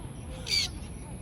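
A single short, harsh crow caw rings out against a quiet outdoor background.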